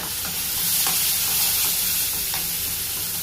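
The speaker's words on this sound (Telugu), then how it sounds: "సిమ్లో పెట్టుకొని ఫ్రై చేసుకోవాలి." Onions and tomatoes with turmeric and salt fry in a pan, a steady close sizzle running throughout with occasional scraping stirs of a spoon.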